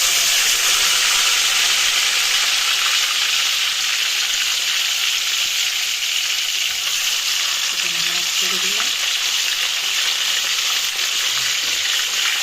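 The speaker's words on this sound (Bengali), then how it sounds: "মাছগুলো বেশি ভাজা দিন" Fish fry in hot oil in a kadai set on a gas flame. A loud, unbroken sizzle fills the whole stretch, with a brief voice heard faintly partway through.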